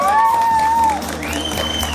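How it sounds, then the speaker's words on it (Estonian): Applause and cheering from a crowd at the Krootuse soapbox race award ceremony in 2014, steady and fairly close over the full two seconds, with a whistle or whoop tone gliding above it. "Aplaus!"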